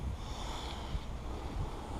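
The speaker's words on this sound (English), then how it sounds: "I didn't realize it was this windy out here today." Wind buffets the microphone outdoors at a beehive inspection site, a low, steady rumbling gust that stays fairly faint throughout.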